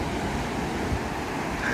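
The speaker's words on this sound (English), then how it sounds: "You just can't beat the sound of the waves crashing on the rocks on the shore." Waves wash against shoreline rocks near Newquay as a steady, close, broadband roar, mixed with wind buffeting the microphone.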